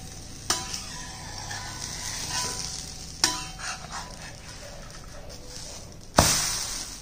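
Dosa frying in a pan over low gas, a soft steady sizzle broken by three sharp clinks and scrapes of a spatula turning it, close by.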